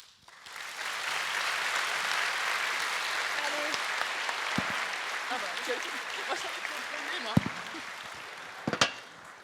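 Sustained applause from a live audience at a book-festival masterclass, steady and dense throughout with a few sharper claps and cheers near the end.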